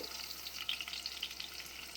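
Green chillies fry in hot oil with a faint, steady sizzle and a few small crackles and pops. The sound stays quiet and close, and no one speaks.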